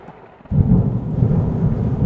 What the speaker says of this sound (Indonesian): tiba-tiba terbangun karena mendengar suara guntur